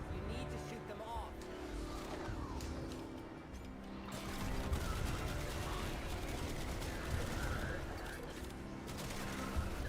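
Gunfire in the video game Warframe shoots spores off a scrubber, with rapid bursts of shots in a dense, continuous game soundscape.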